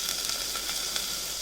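Slit green chilies, small onions and brinjals cooking in a pan, giving a soft, even, continuous sizzle and hiss with no pauses or voices.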